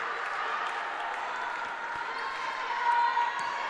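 Spokane volleyball fans in a gym, including Walla Walla Warriors supporters, cheering and applauding during a college match against Bellevue, a sustained crowd roar with clapping that swells slightly near the end.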